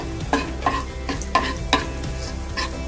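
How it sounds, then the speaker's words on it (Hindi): Cumin seeds roasting in a pan on a home stove, a steady sizzle broken by a few sharp scraping stirs spaced about half a second apart. "और अभी थोड़ा जीरा डाल लेते हैं, मुझे जीरा थोड़ा ज्यादा अच्छा लगता है। चलिए इसको थोड़ा भून लेते हैं।"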